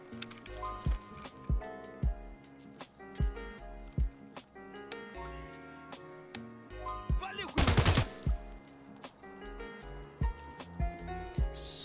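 Bursts of full-auto AK rifle fire in Escape from Tarkov, sharp repeated cracks in short volleys throughout, with one dense loud stretch near the end, over a steady game background.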